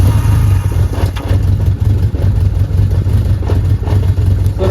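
A 1981 Yamaha XS1100 motorcycle engine runs steadily close by, a loud continuous low rumble with slight rhythmic pulsing and no talk over it.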